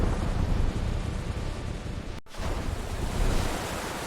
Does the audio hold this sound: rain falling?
yes